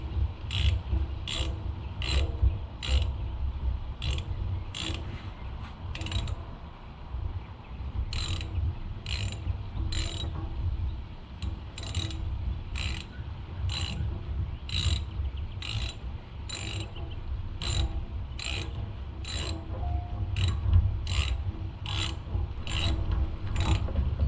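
A ratchet works spark plugs loose on a 2012 Can-Am Outlander 800 XMR ATV, giving crisp, close clicking bursts in a steady back-and-forth rhythm over a low mechanical hum for the whole stretch.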